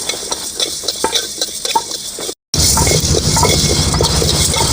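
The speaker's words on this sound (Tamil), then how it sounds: "கொத்து மல்லி நல்லா வறுத்து எடுத்துக்கணும்" Coriander seeds dry-roasting in a pan, scraped and stirred in a steady dry rustle with a short break partway, then a louder, denser stretch of stirring close by.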